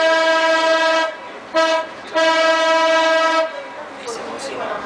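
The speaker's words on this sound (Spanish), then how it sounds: "Esa bocina que acaba de tocar, sí, sí es obligatoria. Es la que anuncia la llegada del tranvía." A Mendoza tram sounds its horn at a street crossing: a loud, close, harmonic tone blown in three blasts, a long one, a short one, then another long one, with a faint rumble after.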